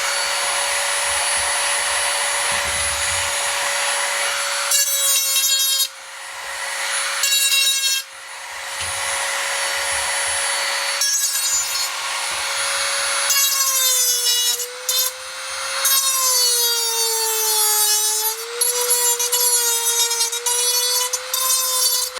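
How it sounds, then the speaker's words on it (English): A Dremel grinding wheel whines loudly and steadily as it smooths sharp drilled metal edges on a can for a DIY backpacking stove, its pitch dipping and rising under load through bursts of harsh rasping contact. "that's what we use the grinding wheel and the Dremel for,"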